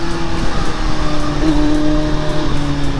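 A Kawasaki Z900 motorcycle engine runs close and loud through its exhaust, a steady droning hum with a slight rise in pitch midway, and no talk over it.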